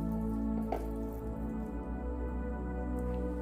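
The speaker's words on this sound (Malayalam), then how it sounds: "സേമിയ നമുക്ക് ഇതുപോലെ ഊറ്റിയെടുക്കാം." Water draining from boiled vermicelli in a kitchen, a soft continuous trickle with scattered drips over steady low kitchen hum, fairly faint and close.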